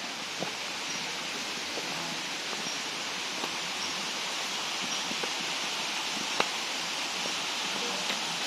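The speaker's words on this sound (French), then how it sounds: "On entend déjà la cascade." Waterfall in dense tropical jungle at Khun Si Waterfall on Koh Samui, a steady broadband rush of falling water heard from a short distance, continuous and even throughout with a few faint clicks and footsteps.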